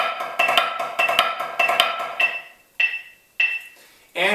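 A drumline snare plays a triplet grid with diddles on the downbeats and accents moved to the second triplet partial, giving a tight, loud, rolling pattern that ends in a few separate ringing strokes.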